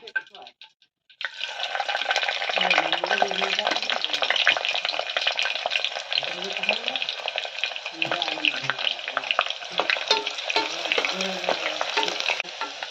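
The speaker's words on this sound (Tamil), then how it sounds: "இப்போ வெங்காயம் நல்லா வதங்கிருச்சு" Sliced onions and bay leaves fry in oil for a vegetable biryani, giving a steady loud sizzle that runs almost unbroken after a brief quiet opening, with occasional scrapes and stirring clatter in the pan.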